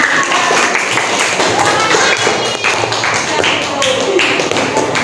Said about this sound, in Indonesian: berikan tepuk tangan buat Mbak Kaila yang sudah menyimpulkan